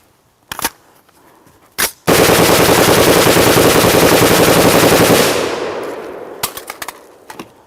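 An M16 rifle lets off a few single sharp shots, then one long loud automatic burst lasting about three seconds, followed by scattered metallic clinks and taps close by.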